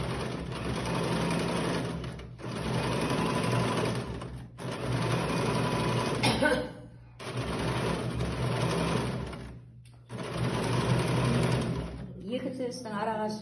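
Electric sewing machine running in repeated bursts, stitching two parallel seams half a centimetre apart on fabric; a steady whirring buzz stops and restarts several times, close up, with brief pauses between runs and a voice speaking in places.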